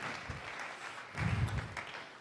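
A church congregation claps during a sermon, a steady patter of many hands that swells briefly louder near the end before easing, heard from a short distance.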